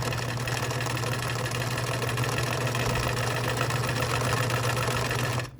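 A sewing machine stitches patchwork quilt seams for a rail fence block, a steady close mechanical hum running unbroken before stopping abruptly at the end.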